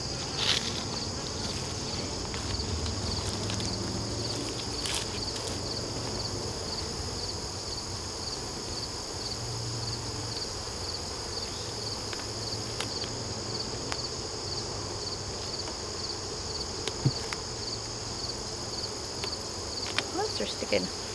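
Honey bees hum steadily around an opened new hive during an inspection, a constant close drone with faint handling clicks and no talking.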